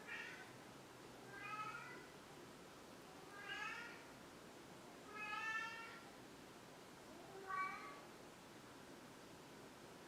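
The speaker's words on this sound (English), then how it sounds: "That's my cat wondering where I am." A house cat meows four times at evenly spaced intervals, each call a short rising-and-falling cry, faint and somewhat distant over a quiet hiss of room noise.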